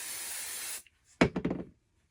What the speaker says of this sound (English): I'm going to just spray it right onto the top.